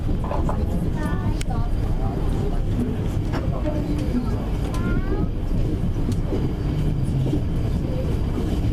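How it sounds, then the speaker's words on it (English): A busy passenger train rumbles along with a constant loud roar and rattle, while voices of people aboard chatter under the noise. "I'm on the train now, and I tell you, this train is busy."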